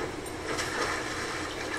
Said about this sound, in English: Running water nearby.